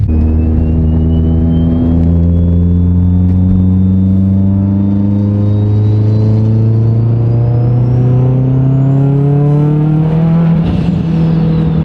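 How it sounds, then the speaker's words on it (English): A Mitsubishi Evo engine rumbles loudly and continuously as the car drives, its pitch climbing steadily under load with strong harmonic drone, then revving higher near the end. "Let's go rip the Evo, back to the shop."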